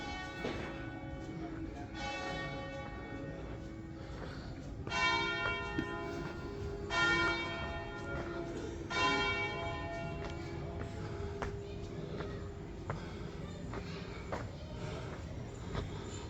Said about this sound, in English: you can hear the church bells.